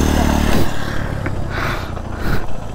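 A KTM motorcycle engine roars loudly up close, its pitch rising and falling as the throttle is applied in surges, with some mechanical clatter.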